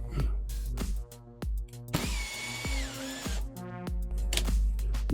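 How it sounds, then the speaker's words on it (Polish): A cordless power drill reverses a screw out of an OSB floor board, with short repeated trigger bursts and a sustained whining run in the middle, loud and close in a quiet room. "wykręcamy śrubę"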